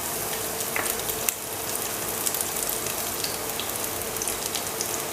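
Garlic sizzling as it fries in a pan with white and black cumin, a dense, steady crackle with occasional sharper pops, close and continuous.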